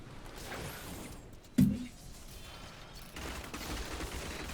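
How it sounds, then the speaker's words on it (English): A single sharp burst of gunfire cracks out from rapid-fire shooting at a boss in a Diablo Immortal Challenge Rift video game, then fades into a low mechanical game din. "we're just holding rapid fire to take out the boss there"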